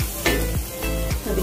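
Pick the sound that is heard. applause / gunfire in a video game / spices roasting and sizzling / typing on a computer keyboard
spices roasting and sizzling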